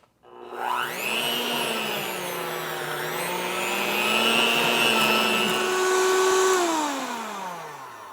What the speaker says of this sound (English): we're gonna use a beater, and we're going to get it nice and creamy